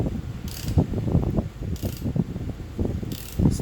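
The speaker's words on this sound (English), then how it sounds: "And then what I do is I've been spinning the motor over" A motorcycle engine is turned over slowly by hand while degreeing the cams, giving soft ratcheting clicks and mechanical whirring in an uneven rhythm, with faint hissing swells recurring, close and quiet with no talking.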